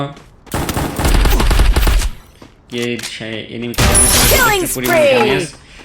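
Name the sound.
gunfire in Free Fire video game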